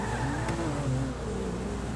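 A car in Grand Theft Auto 5 sputters up the road on deflated tires, its engine droning steadily at moderate level for a couple of seconds.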